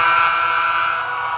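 A steady, sustained horn tone from an HO scale model diesel locomotive, loud and unbroken for over a second with nothing else heard.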